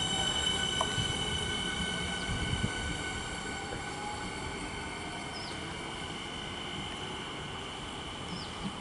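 A commuter train on a Melbourne suburban line pulls away from a station platform, a steady low rumble and rolling wheel noise with faint high squeals, heard from close by without talk.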